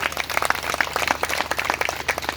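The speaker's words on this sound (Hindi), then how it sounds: "क्या आप जोर से ताली बजा सकते हैं इसके लिए?" A congregation at a gospel meeting in a Maharashtra village claps together in quick, dense, lively bursts, near and fairly loud, with no talk over it.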